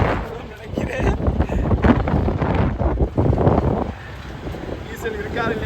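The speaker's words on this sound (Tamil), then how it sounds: "காற்று சரியான உரமாக இருக்குது." Strong wind at sea buffets a fishing boat, a continuous rough roar of gusts against the microphone with faint voices underneath throughout.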